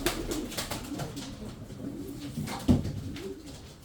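Tumbler pigeons coo in low, soft murmurs over steady background noise, with a brief louder thump near the end.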